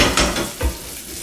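Food swirled in a pan of butter, a loud close sizzle with short scraping stirs as the pieces are moved around.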